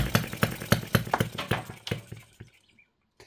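An OKMO 1110 miniature working replica of a 1950s Japanese four-stroke engine, running a bit rich, chugs in quick, uneven pulses for about two seconds before slowing and dying out into silence.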